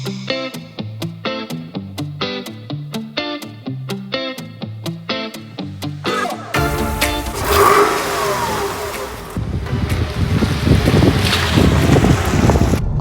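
A Porsche Boxster is driven at speed, its engine note under heavy, roaring wind noise and buffeting that swell and dominate the cabin sound, with no talking.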